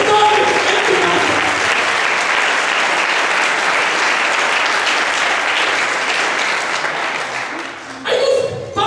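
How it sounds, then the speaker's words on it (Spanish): A church congregation claps loudly and steadily in a dense, sustained round of applause that fills the room, tapering slightly near the end as a voice briefly emerges. "dale un aplauso fuerte a Él y dale gloria por estar en tu casa"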